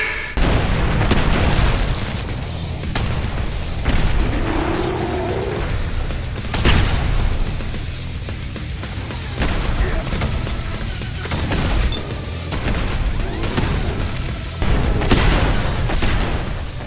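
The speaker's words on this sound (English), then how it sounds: "Explosions!" Explosions from a modded Fallout 4 video game boom repeatedly over a steady bed of game noise, with loud bursts recurring every few seconds.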